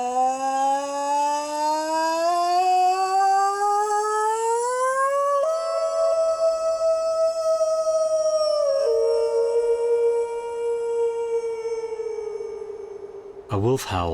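A person imitates a wolf howl outdoors on the Canadian west coast to call wolves. One long, loud, clear howl rises slowly in pitch, holds, steps down, then trails off and ends in a short noisy burst, with no answer.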